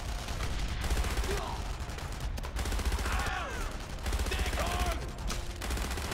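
Gunfire in the PC shooter Enemy Front, a dense loud burst of rapid shots and rattling bangs running almost nonstop, with faint whooshing effects mixed in.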